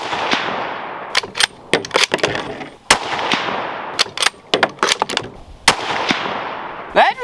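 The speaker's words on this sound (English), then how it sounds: "These have been the most accurate bullets I've ever shot." .308 rifle rounds fired during an ammunition accuracy test, a rapid run of loud, sharp, close reports, each trailing off in a short echo, with a few brief pauses.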